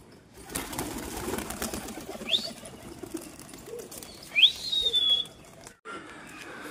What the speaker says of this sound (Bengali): পাঁচটা কবুতর দিলাম ফ্লাইংয়ে